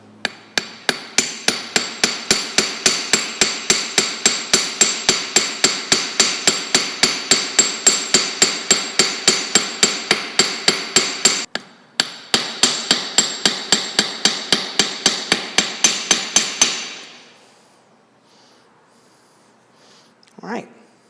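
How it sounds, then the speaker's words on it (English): Rapid, steady metallic strikes of a cross-peen hammer texturing jewelry metal ring out loudly and close for about sixteen seconds, with one brief pause, then stop abruptly into near silence. "So I'm just going to do a little hammering."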